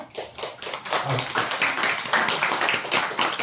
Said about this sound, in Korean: 박수 치라고 한 거예요.